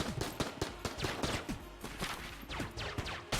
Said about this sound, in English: that AK-47 wielding bulletkin only fires for like a couple of seconds before he has to stop and reload